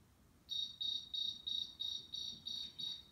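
Eight evenly spaced cricket chirps ring out in a regular rhythm, clear and fairly close over a quiet background.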